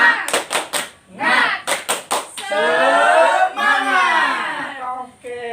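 A classroom of children claps the rhythmic spirit clap in two quick bursts of sharp, evenly spaced claps, close and loud. A group then chants a sustained cheer.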